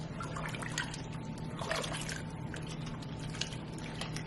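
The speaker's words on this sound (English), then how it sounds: "Now we're going to add in our vegetable stock." Vegetable stock pours into a pan of softened onions and browned soy curls, making a soft, continuous trickle and splash with faint dribbles, fairly quiet and unbroken by speech.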